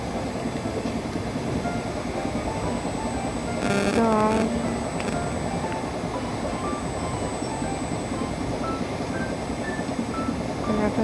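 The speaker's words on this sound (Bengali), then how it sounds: "ট্রেন অলরেডি আমাদের ছেড়ে দিয়েছে পারফেক্ট টাইমে" A train at a railway station platform, with a steady loud rumble of rolling cars throughout and a brief screech of wheels partway through, while people talk nearby.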